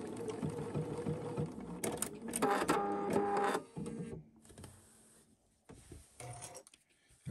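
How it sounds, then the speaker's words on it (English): A sewing machine stitches reinforcement lines for a welt pocket in bursts of rapid mechanical chatter, pausing between runs, with fabric handling noises in the gaps. "now that we have reinforced where we're planning to put our welt pocket on the sewing machine"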